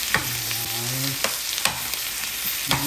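Fish sizzles in hot oil in a pan, a steady frying hiss broken by a few sharp clinks and scrapes of a utensil stirring, with no talking.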